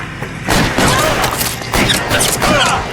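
Gunfire in the video game L.A. Noire comes as loud, dense bursts of shots and impacts that repeat in quick waves over a few seconds.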